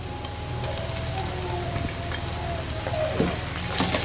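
Lightly browned onions fry with a spoonful of garlic-ginger paste in a pot, giving a steady, close, rain-like sizzle with occasional soft scrapes of stirring and no voices.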